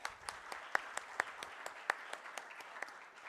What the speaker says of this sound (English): let's have a huge round of applause for all our esteemed speakers today